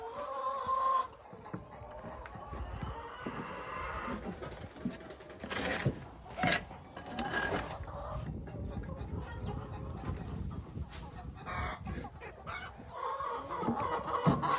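A laying hen in a mobile chicken coop clucks repeatedly at close range, in irregular bursts of short calls and longer squawks over farm background noise.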